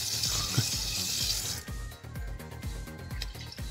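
Tap water runs into a full-size sink in a converted tradesman's camper trailer, a steady rushing stream for the first half that then gives way to clattering, rhythmic mechanical ticks close by.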